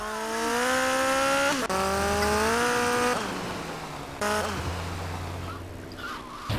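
Motorcycle engine in GTA Vice City Stories on PS2, revving loudly with steady rising and falling pitch, shifting gears twice, then dropping off as another engine surge returns, close and continuous with no talk.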